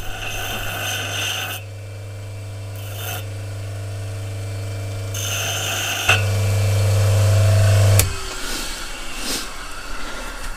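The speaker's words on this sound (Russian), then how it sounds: "Сейчас мы пойдем на точильный станок. И там все это дело сточим." Bench grinder sharpening a homemade metal lure retriever, a steady motor hum broken by rasping bursts of grinding contact that start and stop over several seconds, close and fairly loud.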